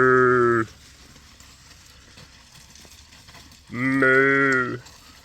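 Cattle at a farm stay low twice in the morning, two loud, drawn-out moos separated by a few seconds of quiet.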